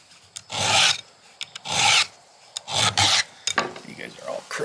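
A hand file rasps across chainsaw teeth during sharpening, in four or five firm strokes spaced about a second apart, each a harsh scraping burst, with small clicks and taps between them.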